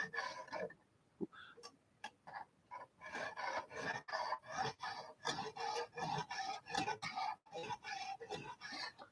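Repeated rasping strokes of a Lansky knife sharpener's hone drawn along a blade in a garage, working out scratches left by the coarse and extra-coarse stones; steady back-and-forth scraping, close and clear with no talk.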